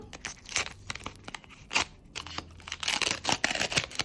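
Crinkly paper rustling and tearing as a paper surprise packet is opened, with sharp crunches and crackles coming in quick irregular bursts, close to the listener.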